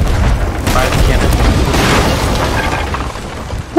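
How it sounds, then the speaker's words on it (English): Sea of Thieves ship cannon fire: a heavy boom that rolls straight into a dense, sustained rumble and clatter of battle noise, loud and close, with players talking over it. "Fire the cannon."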